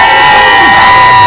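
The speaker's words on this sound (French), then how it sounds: "Bahati Musanga Erasto a été accueilli par une foule en liesse venant écouter attentivement le message de l'autorité provinciale." A crowd cheers loudly to welcome the provincial governor in Mweso, a dense, sustained wash of shouting and whooping voices that stays close and saturated throughout.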